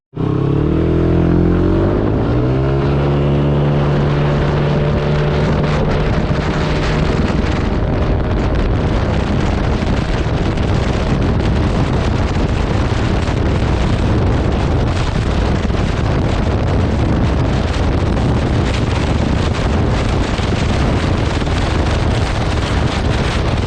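A maxi scooter engine fitted with a 4s1m camshaft revs up and then drones steadily at speed, near 117 top speed, heavily buffeted by loud wind roar across the microphone throughout.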